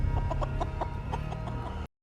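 Chickens cluck in a quick, steady run of short calls over a low background rumble from a scene in the Fallout TV series, cutting off abruptly after about two seconds.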